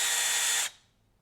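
A 12-volt cordless drill driving an oil primer pump on a big-block Chevy engine whirs loudly at a steady high pitch for about half a second, then stops abruptly and fades to quiet.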